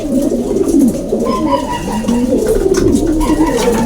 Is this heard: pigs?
no